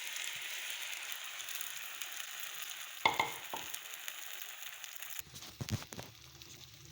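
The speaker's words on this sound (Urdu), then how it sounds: "اس کو لگاتار چلاتے ہوئے بھونیں گے۔" Ghee, flour and milk roasting in a kadai, a low continuous frying hiss with a sharp metallic spoon clink midway and scraping stirs near the end.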